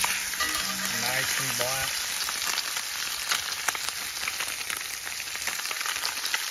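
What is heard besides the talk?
blackened crappie fillets frying on a rocket stove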